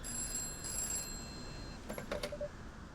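A telephone rings in the video game Ultra ADHD, giving a few bright electronic ring bursts followed by short clicks and a brief tone, loud and alone.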